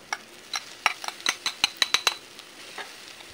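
Ground meat sautéing in a pan as a utensil stirs it, giving a quick run of about a dozen sharp metallic scrapes and clinks over a soft sizzle, then fading toward the end.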